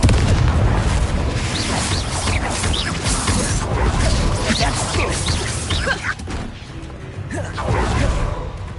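Confringo explosive spell blasts in Hogwarts Legacy, a dense run of booming impacts, crashes and creaking debris from a magical fight, loud and continuous, with a player's voice calling out under the action.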